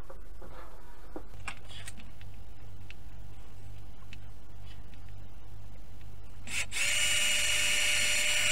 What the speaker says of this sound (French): passons au perçage.